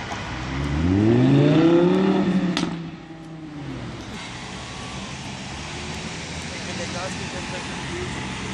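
Supercar engine revs hard on a Munich street, a loud rising harmonic sweep peaking over about two seconds before cutting off, then a steadier engine and traffic rumble continues; a voice speaks in the background.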